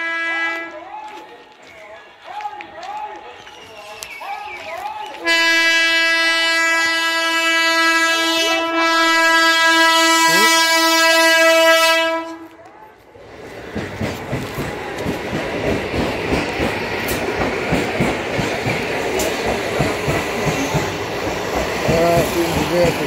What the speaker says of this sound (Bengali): হ্যাঁ সত্যি বন্ধুরা, ট্রেন ঢুকে আছে